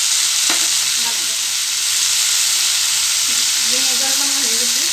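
Potatoes with soy sauce sizzle loudly in a pan with a steady frying hiss, while a spoon stirs and scrapes through them and someone speaks briefly toward the end.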